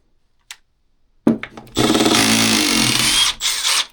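A small Milwaukee subcompact impact driver drives with a Ryobi bit, a few quick blips then a loud sustained rattling hammer burst lasting about two seconds, close and alone.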